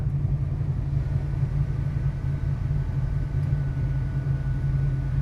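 A 1971 Chevrolet Camaro idles close by, its engine a steady low rumble with a constant deep hum and no speech over it.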